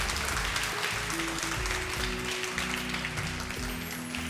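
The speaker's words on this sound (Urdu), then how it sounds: "بہت ساری تالیاں" Studio audience applause on a Ramadan television show, a steady wash of clapping running the whole stretch, mixed with a sustained musical tone underneath and no speech on top.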